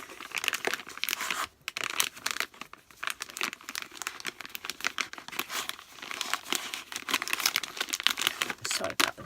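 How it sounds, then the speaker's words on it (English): Tissue paper being rustled and crumpled by hand during a craft project, close and continuous crinkling with sharp irregular bursts and brief pauses. "Sorry about the rustling."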